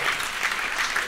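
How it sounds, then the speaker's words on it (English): Studio audience applause for a guest on a dating show, a brief, thick burst of many hands clapping at once, loud and continuous with no talking. "Clap it up for Deanna, opening up."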